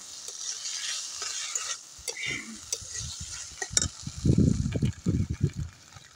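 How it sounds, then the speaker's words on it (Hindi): Masala frying in a pan on a wood fire, steady sizzle with intermittent stirring scrapes and a few louder clatters toward the end, close up. "इसको चलाते हैं आपको बीच बीच में इसी प्रकार से चलाते रहना पड़ेगा फिर तो मसाला को ऐसे ही भूनना पड़ेगा आपको"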